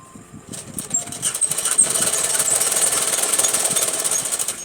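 Rapid mechanical chatter of a sewing machine stitching a Rajputi kanchali blouse, starting after a brief pause and running in a fast, even, close-up rattle.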